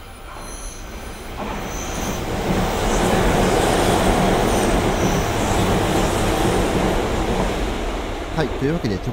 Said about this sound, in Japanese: というわけで直通特急が通過していきましたけれども